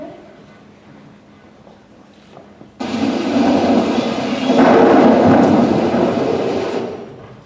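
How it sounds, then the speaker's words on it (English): A sudden loud thunderclap in a film scene breaks in after a quiet stretch and then rolls on as a sustained, heavy rumble, with faint talk beforehand. "You're not afraid of thunderstorms, are you?"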